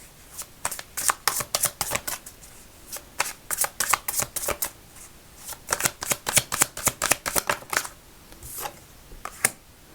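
A deck of manga tarot cards being shuffled, close and crisp, in quick riffling bursts of sharp flicks with brief pauses between rounds.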